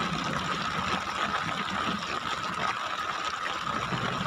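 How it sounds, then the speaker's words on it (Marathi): Heavy unseasonal rain pouring down over farmland near Dhamangaon Railway in Amravati district, a dense, steady roar of falling water that stays loud and unbroken throughout. "पाणी चालू आहे मुसळधार"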